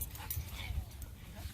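A Jack Russell pug mix makes whiny, yipping dog noises that are faint and close, repeating irregularly over low background rumble.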